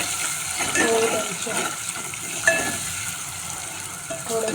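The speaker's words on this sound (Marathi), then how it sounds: "याला छान असं परतून घेऊया" Chopped vegetables with a small diced tomato sautéing in oil in a pan on low heat, a steady close sizzle with soft scraping stirs and a couple of spoon clinks.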